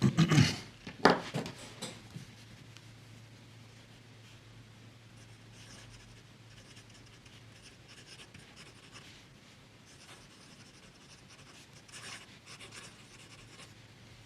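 A fountain pen filled with Caran d'Ache Magnetic Blue ink scratches softly across a Rhodia pad, with faint close strokes in irregular bursts after a louder handling noise at the start.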